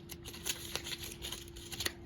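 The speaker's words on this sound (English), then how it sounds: "Crumple it up." Sheet of paper being crumpled up by hand for a paper sculpture, giving a quiet, continuous crackling and rustling with a few sharper crinkles, close and alone without talk.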